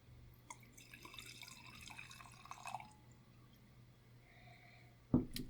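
Chilled Raden kimoto sake trickles and splashes softly into a glass for a few seconds in a quiet room, followed by a sharp knock near the end.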